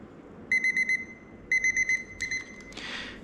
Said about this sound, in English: Timer's almost finished and the pressure is still